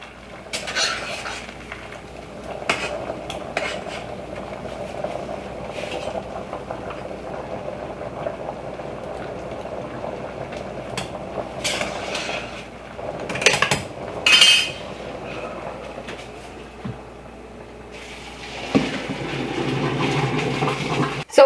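Pots and utensils clink and scrape on a stovetop while cooking pasta is checked, occasional metallic knocks over a steady background hum of kitchen noise.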